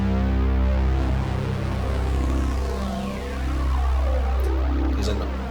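Arturia SQ-80-V software synthesizer playing its Rock Waves preset, a sustained rich chord that evolves as the modulation wheel sweeps a bright moving tone up and down, loud and steady throughout with no talking.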